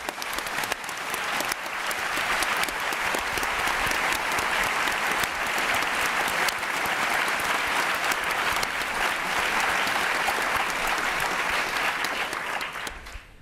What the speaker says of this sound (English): I can hear from all your claps, there's such enthusiasm in the audience